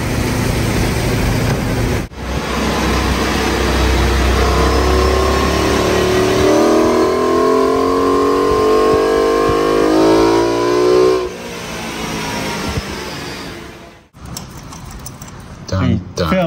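A BMW E30 M3 fitted with an S65 engine and a Venturi airbox runs on a dyno. It revs loud and close in one long rising sweep, then drops off abruptly and falls briefly silent before the engine returns.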